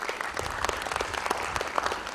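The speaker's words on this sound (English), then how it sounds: "A huge round of applause to Ms. Namrata." An audience at a career counselling session for a skill enhancement programme claps steadily, dense applause filling the room throughout.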